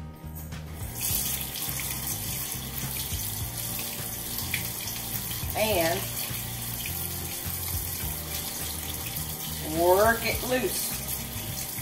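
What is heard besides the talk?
warm tap water running over a frozen tomato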